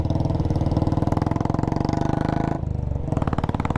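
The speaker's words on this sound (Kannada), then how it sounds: "ಸೈಲೆನ್ಸರ್ ಸೌಂಡ್ಗೆ ನಾನು ಮಾತಾಡೋದೇ ಕೇಳಿಸೋದು ಡೌಟ್ ಆಗಿದೆ" Close, loud motorcycle engine and silencer exhaust on a hill road ride with hairpin bends, a rapid, even thumping beat that briefly dips in strength before picking back up.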